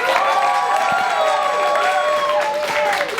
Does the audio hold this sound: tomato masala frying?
no